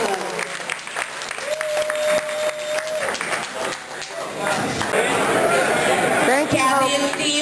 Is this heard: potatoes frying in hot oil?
no